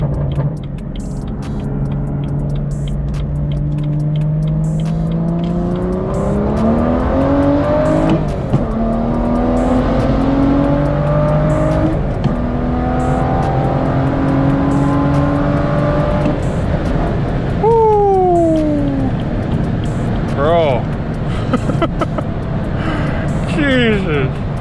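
BMW M2 running BootMod3 stage 2 tuning pulls hard from about 3,000 rpm in second gear, engine pitch sweeping upward through loud revs with shifts and pops, while excited voices talk over it.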